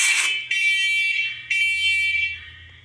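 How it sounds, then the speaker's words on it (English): Newly installed interconnected smoke alarms, set off by a test with real smoke, blare loud repeated high-pitched electronic tones in two long bursts close by, with a low hum underneath. "So this one went off because I tested with real smoke, and they all went off successfully."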